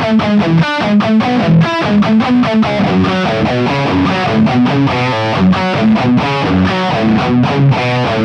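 Heavily distorted electric guitar plays a riff, a fast, loud run of choppy picked notes moving up and down in a tight, driving rhythm.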